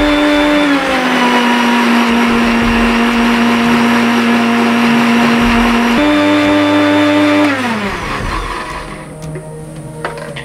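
Electric blender whirring through shallots, a loud steady motor drone with a pitch drop midway, then winding down and fading near the end.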